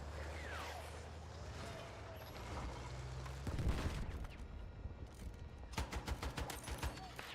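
Gunfire in the video game Battlefield 6 during a match, with a heavier burst midway and a rapid string of sharp shots toward the end over a low background rumble.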